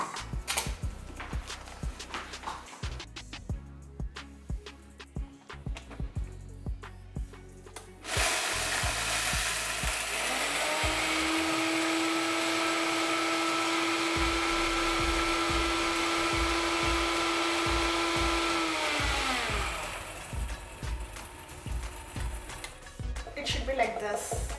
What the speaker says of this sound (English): I'm going to make a powder of chickpeas and roasted chickpeas and sugar in a blender.